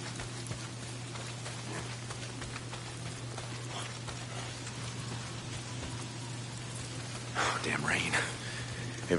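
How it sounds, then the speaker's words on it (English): Steady rainfall in the video game Days Gone, a continuous soft patter with a constant low hum underneath and a brief louder burst near the end, no talk. "It's the goddamn rain. Why is it always raining?"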